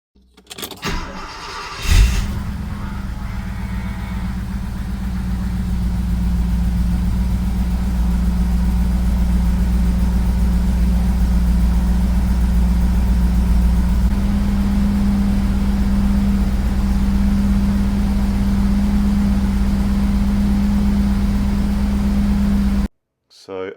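A Mercedes 450SEL 6.9 engine cranks briefly and catches, then settles into a steady, loud low idle with a deep rumble that continues for about twenty seconds before cutting off.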